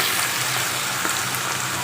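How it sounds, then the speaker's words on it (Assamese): Ginger garlic paste frying in hot oil with bay leaves and onion in a pan, a loud, steady, close sizzle that runs without a break and with no talk. "আদা নহৰুখিনি মই অলপ দেৰি ভালদৰে ভাজি ল'ম"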